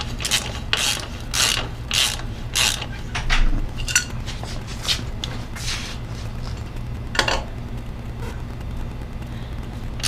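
A ratchet tightens the chain adjuster on a Yamaha XT-250 motorcycle, with quick bursts of close, crisp clicking in steady strokes, a pause with a low clunk, then a few more clicks.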